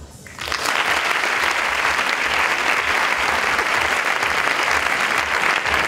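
A crowd at a festive proclamation event in Torelló bursts into applause, rising suddenly from quiet into loud, dense, steady clapping that holds evenly to the end without talk.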